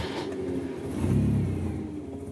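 Colt Lancer Turbo EX2000 engine idling close by, a steady low rumble that swells slightly in the middle of the clip before settling back, with no talking.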